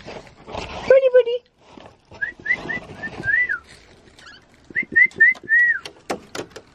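A bird calls outside a caravan in two bursts of short, repeated whistled chirps, heard between stretches of nearby human voices.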